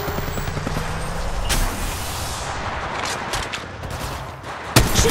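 Apex Legends gunfire: a run of sharp shots over a busy, noisy battle bed, with a few distinct cracks spread through the clip and one louder hit near the end.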